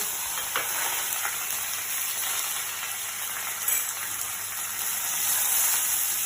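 Hing, curry leaves and green chili hit hot oil in a pan, giving a loud, continuous bright sizzle and crackle with a few sharper pops, no voices.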